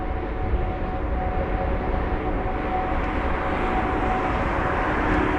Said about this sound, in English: There's that Lufthansa that's just taxiing now.